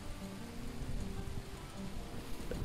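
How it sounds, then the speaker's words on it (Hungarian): Steady rain falls on a village garden planted with corn, peas and cucumbers, a dense, even patter close by with no voices. "esik az eső, ez a lényeg"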